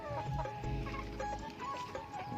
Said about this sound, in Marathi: हे इकडे कोंबडे फिरत आहेत हे सगळे आरवायला लागलेले आहेत